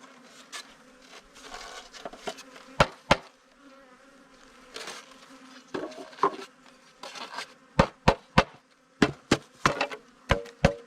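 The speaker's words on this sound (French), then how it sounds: "Toutes les abeilles qui sont là-dedans là." Honey bees buzz around a mini hive while sharp wooden knocks and taps ring out, building into a rapid series of clacks toward the end.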